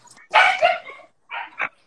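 A bully breed dog at an outdoor dog show gives two quick loud barks, close up, with short yips between them and no talking.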